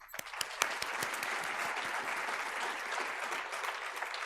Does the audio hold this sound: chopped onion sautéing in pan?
no